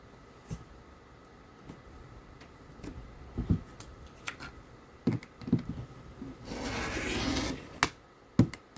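Quilting fabric being trimmed along its edge with a cutter against a ruler, soft scattered taps and rubs leading to a denser, steady scraping cut of about a second and a half, then a few more light handling knocks, all close and quiet.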